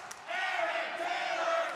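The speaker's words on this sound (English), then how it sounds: "Listen to this crowd." A wrestling arena crowd roaring and cheering during a brawl-heavy independent match, a dense, loud sustained swell of voices that rises sharply after a brief quieter start.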